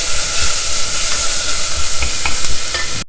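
Onions stir-fried in a pan until translucent, a loud close sizzle broken by a regular scraping rhythm of a spatula against the pan, with no voices.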